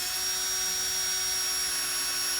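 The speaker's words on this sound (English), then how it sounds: "whenever I'm just hand drilling like small holes like this" A hand drill runs steadily with an oiled bit cutting small holes in metal, a close, continuous high whine with a faint hum underneath and no talk.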